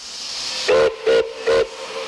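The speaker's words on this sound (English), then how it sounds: "With a blast of its whistle and a belch of smoke, 261 is rolling again" Milwaukee Road Engine 261, a steam locomotive, sounds its whistle in three short, loud, evenly spaced blasts with a faint steady hiss of steam between and behind them.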